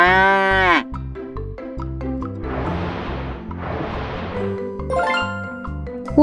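A cartoon cow gives one loud, drawn-out moo at the start in a children's animated lesson on farm animal names, followed by a bouncy music track with bright chimes.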